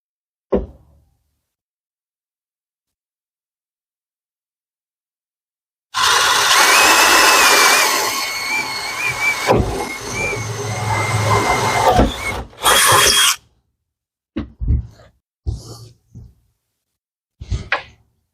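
A power drill whines loudly for about seven seconds as it bores into a boat while fitting a swim platform, dips briefly, then stops; a few short knocks and clunks follow in the quiet afterward.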